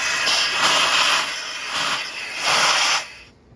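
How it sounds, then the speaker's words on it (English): Aerosol carb cleaner sprayed onto Mercedes SL R107 fuel injector parts, in three loud close hissing bursts with short gaps between them before it falls silent. "Get some carb cleaner here and just spray it a little bit"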